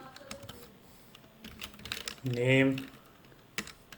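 Computer keyboard typing while entering code, a run of quick light key clicks scattered under someone speaking Hindi, with one sharper isolated keystroke near the end.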